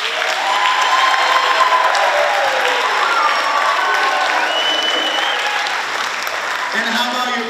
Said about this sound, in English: how about a big round of applause for your jazz band directors?